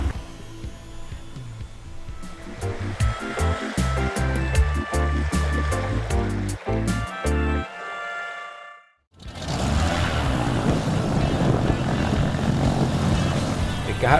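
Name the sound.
propeller airplane taking off from runway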